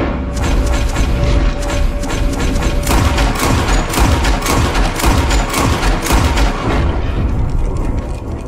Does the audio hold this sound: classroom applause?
no